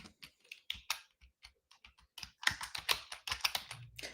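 Keys clatter on a computer keyboard as a chat message is typed, in quick uneven bursts of crisp, close keystrokes with short pauses and no talking.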